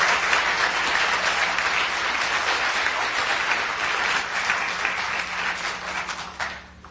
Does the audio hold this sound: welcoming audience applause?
yes